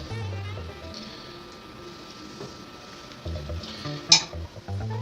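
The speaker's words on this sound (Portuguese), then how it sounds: "Enquanto isso, a manteiga vai derretendo." Butter melting in a preheated frying pan before eggs go in, giving a low, soft sizzle under a steady background with a brief sharp scrape or clink near the end.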